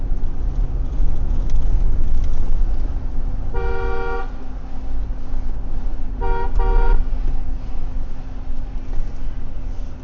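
Two separate car horn honks, each about half a second long, sound over steady engine and road rumble while driving a local Uttarakhand car on Indian roads. Nobody speaks.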